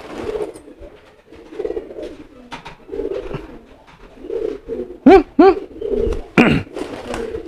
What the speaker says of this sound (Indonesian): Jadi, oh ini udah berarti giringnya udah keras nih